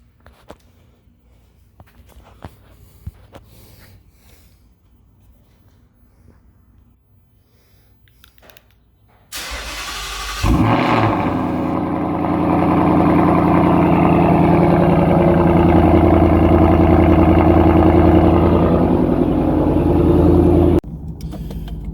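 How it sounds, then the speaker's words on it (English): A car with a new exhaust, left sitting for about five days, cold-starts after a quiet stretch of faint background noise; the engine catches with a loud burst, then holds a steady, loud, rumbling fast idle until it cuts off near the end. "So how about a cold start before we go?"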